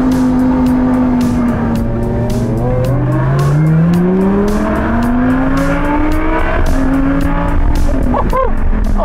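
A Lamborghini Sian supercar drives with its engine revving hard, the loud, steady engine note rising and falling as it changes gear. Close and continuous, with a few sharp blips near the end.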